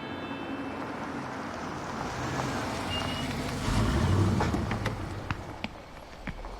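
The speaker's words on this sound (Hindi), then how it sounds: "लो गाड़ी भी आ गई।" A vehicle pulls up and rumbles at low pitch, its noise swelling midway as it draws near, then a few short clicks and knocks follow, with no talk.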